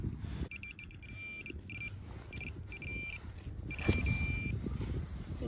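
A metal detector sounds a series of short electronic signal tones, repeated beeps at a moderate level over outdoor handling noise and faint rustling.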